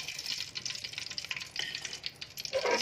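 Whole dry spices crackle and sizzle in hot ghee for a black pepper lemon chicken karahi, a busy, close frying hiss with quick bubbly pops that rises in loudness toward the end, with no one speaking.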